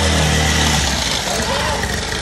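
A motorcycle engine runs steadily and loud close by as a rider speeds along on a bike, with a continuous rough drone and wind rush throughout.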